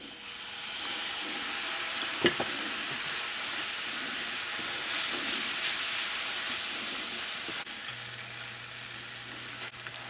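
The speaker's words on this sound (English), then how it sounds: "Going to add our beef broth a little bit at a time." Beef broth added a little at a time to a hot pan with flour, producing a steady broad hissing sizzle that holds throughout with small bubbling pops.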